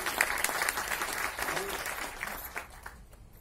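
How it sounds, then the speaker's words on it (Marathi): Loud applause for Sudhir Gadgil at the Ram Nagarkar award ceremony, a dense burst of clapping from an audience that starts strong and slowly thins out over a few seconds. "सन्माननीय सुधीरजी गाडगीळ सर यांच्यासाठी जोरदार टाळ्या."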